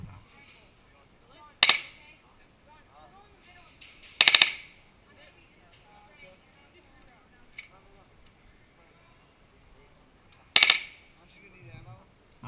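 Airsoft guns fire during an outdoor airsoft game, heard as three short, sharp bursts spaced several seconds apart, with quiet talk and movement in between.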